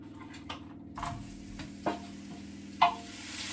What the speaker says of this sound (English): we're going to add this to our hot oil in the frying pan.